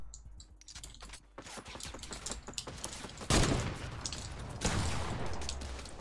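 Gunfire in a competitive online shooter, with rapid crackling shots and two loud bursts of heavier fire over a busy background of clicks and keyboard tapping.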